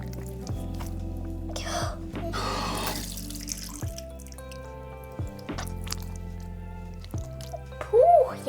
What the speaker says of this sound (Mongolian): Одоо бас гараа угаана.